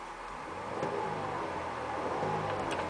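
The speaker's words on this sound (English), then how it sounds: "I'm going to rev it." A 2008 GMC Arcadia SUV with a 3.6 V6 engine idles, then revs up twice in quick succession, the engine note rising and falling steadily throughout, close by and fairly loud.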